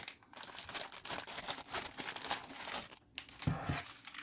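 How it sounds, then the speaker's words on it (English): Plastic packaging around a Geek GK61 optical mechanical keyboard crinkles and rustles continuously at close range as the keyboard is pulled out, a dense, busy crackle with brief pauses. "It's inside of a nice looking plastic. I know it makes a lot of noise, but let's get it out."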